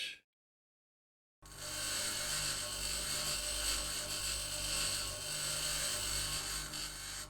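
Grinder tool in the Occupy Mars game, starting after a brief silence and then running as a steady, loud, high-pitched whine with a mechanical drone for several seconds.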